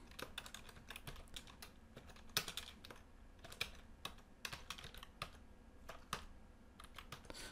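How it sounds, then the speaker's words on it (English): Steady typing on a computer keyboard while entering text in a web editor, with dense, irregular key clicks and a few sharper louder strokes, close and alone with no talk. "So I'm just gonna go ahead and type quite a bit here."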